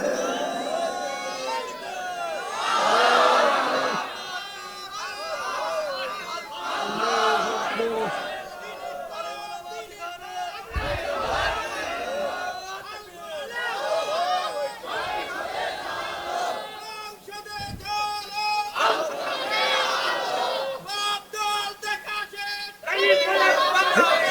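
Crowd at an Islamic sermon chanting slogans in unison, waves of loud collective shouting that rise and fall, with a preacher's voice leading between the chants.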